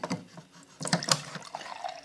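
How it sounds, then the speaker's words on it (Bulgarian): Mineral water poured into a glass of homemade lemon water, heard close up as uneven splashing and filling bursts that swell after a brief lull, with no talk. "Просто пълня сега."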